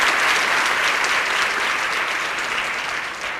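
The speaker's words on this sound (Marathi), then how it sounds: "अरे वाजवा, टाळ्या जोरात वाजल्या पाहिजे" Loud, dense applause fills a hall at a school career fair, many hands clapping steadily close by before easing slightly at the end.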